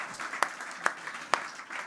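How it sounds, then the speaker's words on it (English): Applause for a speaker on stage at a conference, soft steady clapping broken by three sharp, louder claps spaced evenly apart, nearby and brief. "a round of applause for Mr."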